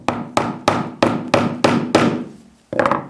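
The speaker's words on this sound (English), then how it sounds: "So cheap hammer first." A cheap £4 hammer drives a round cable clip with seven sharp, evenly spaced strikes, each ringing briefly, then a short pause before a final clattering knock; close and loud, no talking.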